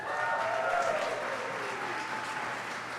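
Audience applause at a book launch event, steady dense clapping from a crowd filling the room throughout, loud and sustained with no talk over it.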